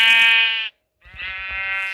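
Two loud, close sheep bleats from the Minecraft video game, each a wavering nasal cry, separated by a short silence with no talk over them.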